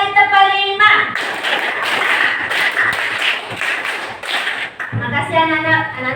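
A classroom of children standing and clapping a rhythmic counting clap pattern, a run of sharp claps in steady bursts, with voices heard just before and after.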